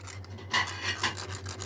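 Crispy fried potato fingers are bitten and crunched close up, a few rasping crunches rising over a faint steady hum, with no talking.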